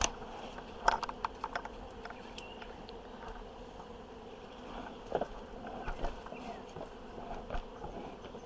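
Honeybees at a wild hive give a faint, continuous low buzz with scattered soft clicks and rustles nearby, quiet and without talk.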